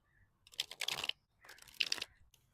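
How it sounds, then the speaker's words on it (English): Two quick bursts of a tarot card deck being riffled and shuffled, crisp and close, separated by a short pause, with no talking. "Let's shuffle your deck and see."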